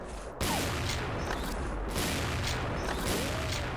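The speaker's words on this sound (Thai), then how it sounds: "ทำไมชอบยิงเผื่อวะผม ผมงงตัวเองว่าเลยผมชอบยิงเผื่อ" Dense, continuous rattling gunfire from the online shooter XSHOT runs almost without a break, loud and harsh, with bursts swelling and easing throughout and no talking.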